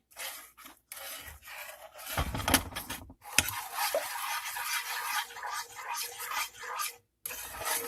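A spoon stirs honey and butter melting together in a pot, giving intermittent close scraping and rubbing strokes against the metal with short pauses between them.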